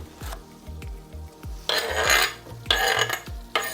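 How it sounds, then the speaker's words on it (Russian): A knife chops fresh herbs for a chicken sauce on a cutting board in a home kitchen, with steady thudding strokes. Bursts of sizzling from the pan break in between them. "Сейчас я это тоже порежу и туда же кину в соус"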